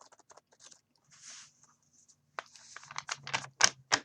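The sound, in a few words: shuffling a deck of cards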